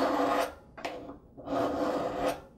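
A coarse file rasps along a knife blade in a few long, loud, close strokes with short gaps between them, and no voices.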